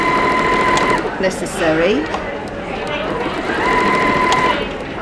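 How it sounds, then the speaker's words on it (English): A sewing machine runs in steady stitching bursts while sewing an infinity scarf, pausing briefly mid-way before resuming, with a person talking over the mechanical whir throughout. "I'm just going to over sew where I started"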